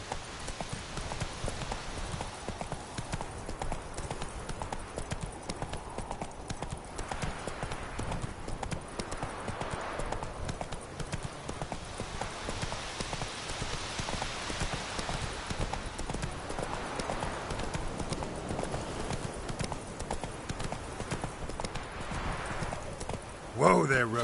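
Roach, a horse in The Witcher 3, gallops with a steady, continuous clip-clop of hooves throughout, while a voice speaks over the running hoofbeats at intervals.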